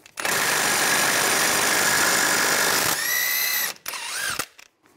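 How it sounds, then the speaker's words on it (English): A 32 mm socket on a power tool spins off the rear hub nut of a 2003-2008 Infiniti FX35, giving a loud, steady mechanical whir for about three seconds, then a couple of shorter high-pitched whining bursts as the tool winds down. "Using a 32 millimeter socket, take this nut off."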